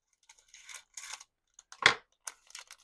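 Scissors cut the top off a plastic bead package holding small stainless steel crosses: soft crinkling handling, then one crisp, close snip, followed by more rustling.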